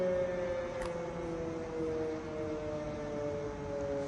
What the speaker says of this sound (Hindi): एक बार फिर ये सायरन बज रहे हैं